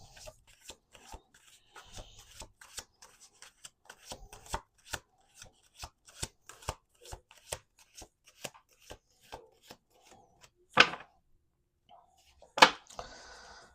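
A deck of cards being shuffled against a table, heard as a run of crisp riffling clicks and taps at a steady pace, with two louder ruffling bursts near the end.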